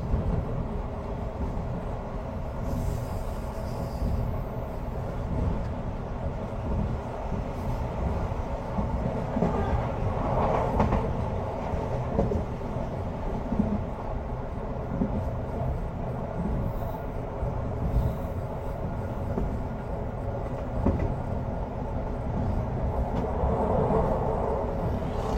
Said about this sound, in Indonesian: Kereta Jakatingkir telah tiba di stasiun Jatibarang